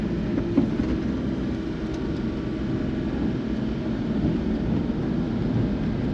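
An automatic kei truck drives with a steady, muffled in-cab engine drone and road rumble, even and continuous without a sharp rise.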